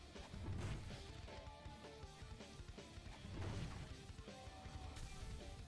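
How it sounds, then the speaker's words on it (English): A video game box-breaking effect from a ransack bonus gives heavy crashing smashes at a couple of points, heard amid dense, busy game noise and music at low overall level. "when you hear sounds like the breaking box sound, it means you've gone up a tier of ransack bonus"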